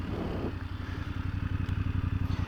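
A VOGE 900 DSX motorcycle accelerates in Rain power mode, its engine loud and close with a steady pulsing throb that builds continuously with no voices over it.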